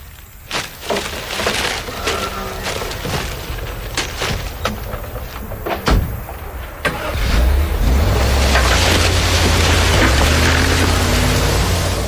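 A car starts and pulls away: a few sharp knocks and clatters first, then an engine revs up and holds a loud steady drone through the second half.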